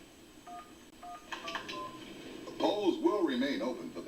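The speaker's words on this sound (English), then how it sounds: "After dialing the number of your choice, simply key in your personal security code." Telephone keypad tones beep in short, separated pairs as a number is dialed, followed by a voice speaking over faint background.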